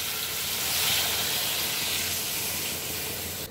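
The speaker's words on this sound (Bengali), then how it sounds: "এটাতে আমি এখন জল দেবো।" Water poured into a sizzling hilsa fish curry sets off a loud, steady steam hiss that fills the whole stretch and cuts off sharply near the end.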